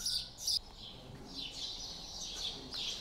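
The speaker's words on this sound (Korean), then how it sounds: "중세시대에도 지적이었을 법한 참새가 오늘도 변함없이 여행자를 반긴다." A sparrow chirps in an old stone alley of Mdina, giving a run of bright short tweets and trills, fairly near and clear, over faint ambient hum.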